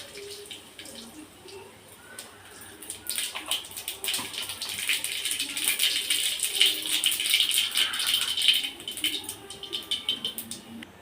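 Mustard seeds hit a little hot white oil for tempering, and a sizzle swells into dense, rapid crackling and popping that grows louder over several seconds, close by.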